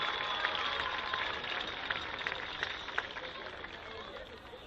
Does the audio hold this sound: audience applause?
yes